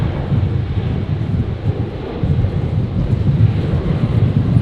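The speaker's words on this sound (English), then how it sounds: "The Embraer just about to rotate here." An Embraer jet rotates on takeoff at Brisbane airport, a steady broad low roar of engines and rushing air that holds loud and even throughout with no let-up.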